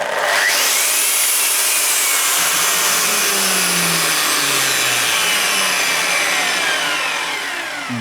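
A Bosch 2400 W angle grinder spins up quickly and runs loud and close, a high rising whine settling into a steady roar with shifting tones, alone without talk.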